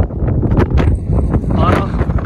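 Strong coastal wind at Seopjikoji on Jeju buffeting the microphone, a loud gusty rumble that rises and falls throughout, with voices faintly mixed underneath.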